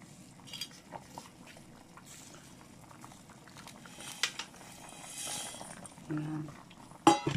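A pot of water boils steadily on a stove as udon noodles are added, a soft continuous bubbling and patter with faint clinks of utensils, while a person talks quietly nearby.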